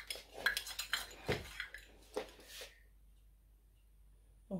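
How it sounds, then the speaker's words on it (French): A cooking pot is handled in a home kitchen: close, clattering clinks and knocks of metal cookware in a quick cluster, then quiet. "Donc là, je prends en fait une marmite. Là où je vais faire frire."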